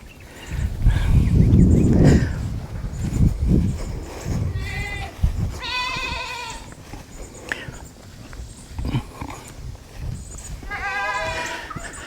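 Goats bleat repeatedly in a yard near a goat squeeze table, several wavering calls close by, mixed with rustling, hoof sounds and a voice.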